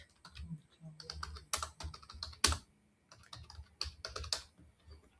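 Rapid keystrokes on a computer keyboard while entering code, arriving in uneven bursts of close, crisp clicks with short pauses between them and a louder clack near the middle.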